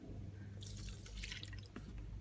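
A small splash of liquid poured while making a healthy homemade ice cream, heard as a brief wet drip and trickle at moderate level with kitchen handling around it, no talking.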